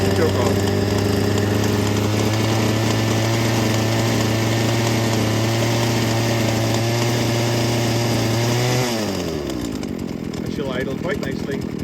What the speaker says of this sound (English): Idle quite nicely at rest.